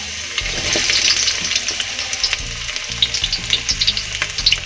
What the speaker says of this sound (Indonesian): Kita panaskan minyaknya. Kita masukkan bawang putih dan bawang merah,